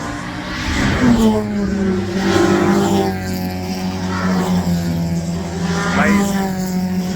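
Opel GSI Superboss race cars lapping DEZZI Raceway, a steady loud engine drone with rising and falling revs as the cars pull away, continuous over the whole stretch with no talk.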